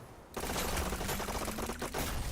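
Rapid, sustained submachine-gun fire in a VR e-sports shooter match, a dense unbroken burst lasting a couple of seconds, loud and close with no talk over it.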